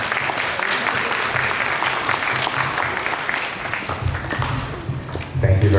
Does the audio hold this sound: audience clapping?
yes